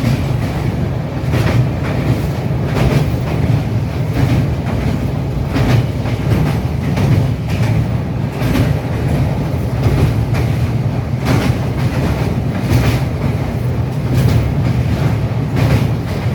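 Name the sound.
Sealdah Puri Duronto Express train running at night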